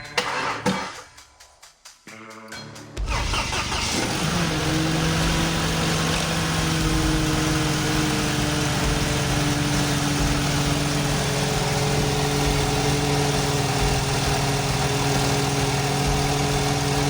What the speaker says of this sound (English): then start the car up to bleed the air out